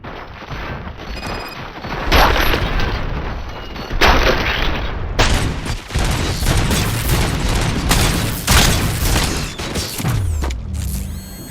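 Gunfire in the video game Robocop: Rogue City, loud and dense bursts of automatic shots with heavy booms and mechanical clatter, going almost nonstop, with a brief lull before a final burst.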